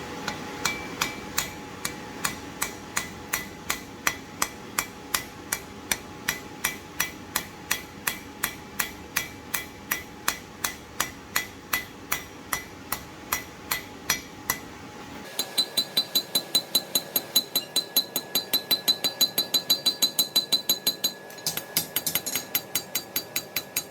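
Steady hammer blows ring on hot metal at an anvil edge while forging a bevel on a scroll, sharp evenly spaced strikes with a metallic clink, a short pause, then faster brighter blows.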